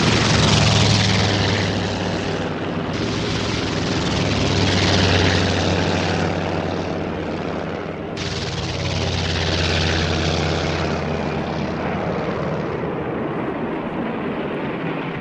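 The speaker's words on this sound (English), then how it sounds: "at 7 a.m., 167 aircraft of the second wave of attackers took off" Japanese WWII carrier aircraft of the second attack wave take off for Pearl Harbor: a loud, continuous propeller-engine roar that swells and eases without pause, with no voices.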